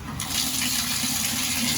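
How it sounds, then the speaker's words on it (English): Water runs steadily from a bathtub tap at good pressure, a continuous broadband gush that starts abruptly and stays loud and close throughout, with no voices. "Now you're going to want to turn on the water."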